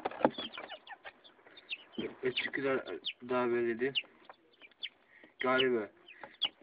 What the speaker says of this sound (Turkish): bir tane tavuk var içinde. İki horoz var.